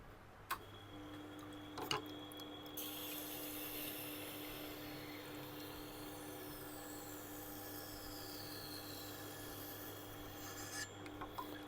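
Knife being sharpened on a 600 grit resin-bonded diamond plate, a steady soft rasping rub running throughout with a few sharp ticks and taps near the start and end, close and quiet with no talking.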